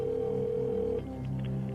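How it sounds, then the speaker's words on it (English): A telephone line on the Who Wants to Be a Millionaire TV game show tones steadily for about a second, then shifts to ringing with soft clicks, clear and close, no one talking. "let's get Chuck Yeager on the phone"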